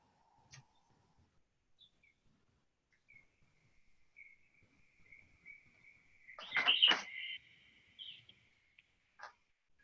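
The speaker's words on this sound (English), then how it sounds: "Are those birds coming from you, Suzanne?" Birds chirp outside, faint and distant, with scattered short calls and one louder burst of tweets partway through in otherwise quiet surroundings.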